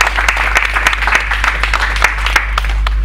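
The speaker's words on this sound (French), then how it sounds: "On applaudit quand même" An audience at a talk show marking the international Holocaust remembrance day claps steadily, a dense patter of many hands with a low hum beneath, no one speaking.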